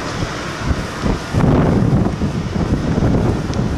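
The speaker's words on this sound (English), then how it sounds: "it's kind of windy out here" Wind buffets the microphone in a steady low roar, gusting harder about halfway through and staying loud and rough to the end.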